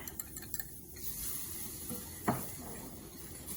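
A whisk stirs flour into melted fat in a pot to make a roux for creamy chicken soup, with soft scraping and a light sizzle and a single sharper clink partway through.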